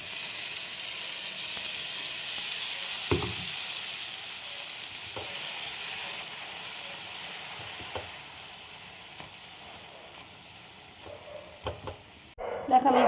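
A paste sizzles in a hot pan while candy is being made: a steady close frying hiss runs throughout, broken by a few sharp clicks and knocks, with a louder clatter near the end.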